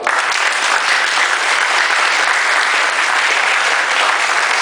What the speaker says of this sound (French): qu'on acclame